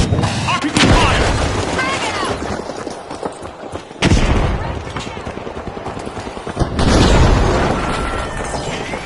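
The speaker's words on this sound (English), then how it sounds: "RPG fire!" In the video game The Finals, RPG launches and loud booming explosions go off in three bursts, with crackling gunfire and debris rumbling between them under a commentator's voice.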